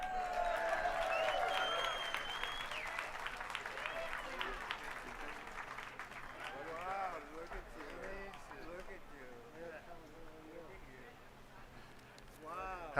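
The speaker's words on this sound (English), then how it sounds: "Let's give a big round of applause for David Arquette." An audience at a Hollywood Walk of Fame ceremony breaks into applause. The clapping and cheering are loud at first and then fade, and a voice begins speaking as it dies away.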